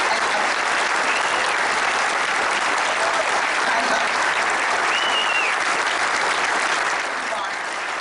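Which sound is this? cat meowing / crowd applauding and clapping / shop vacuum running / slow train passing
crowd applauding and clapping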